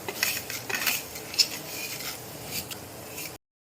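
Chana dal and urad dal fry in hot oil for a pickle tempering, a steady broadband crackle with metal utensil clinks and scrapes near the pan, ending abruptly in silence.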